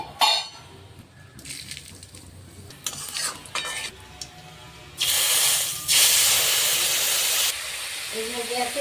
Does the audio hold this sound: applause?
no